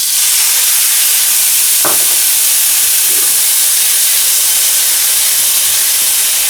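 Beef stir-fried with red chili hisses and steams loudly and steadily in the pan after a splash of water, with a brief clatter near the start and no one speaking.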